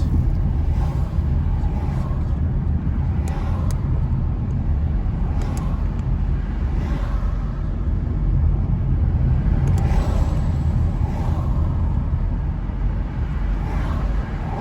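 Car driving along East Street in Old Harbour, Jamaica before 7 a.m., a steady loud engine and road rumble from inside the vehicle that runs for the whole stretch with no break.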